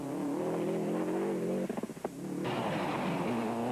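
A Subaru rally car on a stage of the 2004 Monaghan Stages Rally, its engine droning loud and steady, dipping briefly off throttle with crackles before surging back up to full revs.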